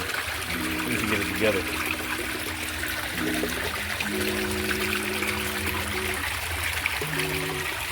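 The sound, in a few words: water trickling in backyard pond from DIY filter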